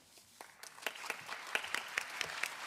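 Audience applause at a conference session, a small group clapping that starts sparse and builds into a quick patter of distinct claps.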